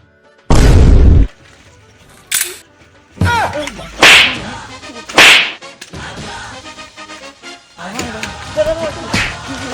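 Gunshot sound effect in a Bengali comedy sketch: a loud, booming blast followed by several sharp, whip-like cracks and bursts, with faint voices in between.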